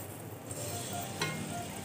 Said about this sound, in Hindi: बस अब हम इसमें गोश्त डालेंगे और गोश्त को फ्राई करेंगे।